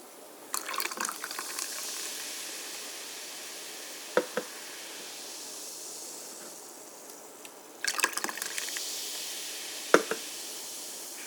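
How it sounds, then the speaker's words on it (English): Lemon carbonated water pours into a glass in a few short bursts, with a soft fizzing hiss between pours and small clinks, quiet and close. "you open up this lemon carbonated water and you pour it into"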